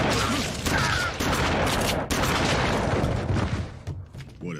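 Rapid bursts of gunfire and booms fill an anime fight scene, a dense, loud barrage running almost continuously with brief gaps, shouted dubbed voices faintly mixed in.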